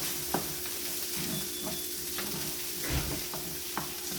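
Fish roll filling fries and sizzles in very hot oil for Cameroonian fish rolls, with a steady crackle and a few sharp stirring scrapes and knocks of the spoon against the pan, close and alone without talk.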